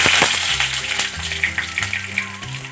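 Chopped garlic hits a hot pan of caramelizing sugar and chili flakes, giving a steady close sizzle and crackle of frying with a few sharper pops throughout.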